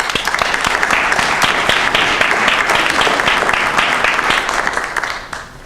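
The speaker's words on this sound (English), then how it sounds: "also deserve a round of applause" A town hall crowd gathered for fire recovery gives a loud, sustained round of applause, many hands clapping close for about five seconds before tapering off.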